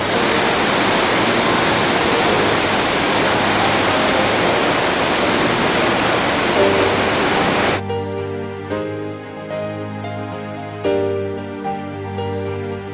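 Ketchikan Creek's moving water rushes as a loud, continuous wash for most of the stretch, then gives way abruptly to quieter ambient sound.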